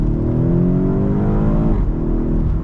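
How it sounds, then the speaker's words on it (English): A 2018 BMW X5M at full throttle on a track, its engine note rising through the revs, then dropping sharply at a full-throttle upshift near the end. The exhaust stays loud and close with no talk. "We got pops in the back"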